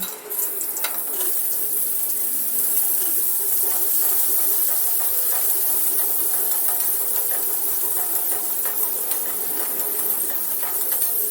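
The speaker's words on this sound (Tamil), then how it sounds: "கொஞ்சம் வெங்காயம் போட்டு ஒரு 2 பச்சை மிளகாய், ஒரு 2 தக்காளி நல்லா போட்டு நல்லா வதக்கி எடுத்துக்கணும்." Onions, green chillies and tomatoes sauté in a pan for a Tamil karamani kuzhambu, giving a steady close hiss and sizzle throughout with faint utensil clinks, and no talking.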